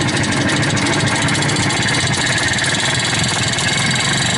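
An IZh Jupiter 2 motorcycle engine idles steadily after a start without throttle, a dense, loud, close mechanical chatter with a metallic ringing rattle throughout.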